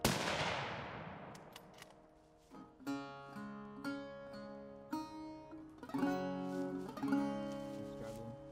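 A hunting rifle shot fired through pine trees at a deer, a sharp loud crack near the start whose decay fades out, followed by steady tonal music with no talking.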